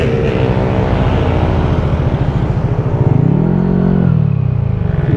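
A motorcycle coming closer, its engine a throaty buzzing drone that holds steady, then rises in pitch as the rider revs before easing back, loud and near with no talk.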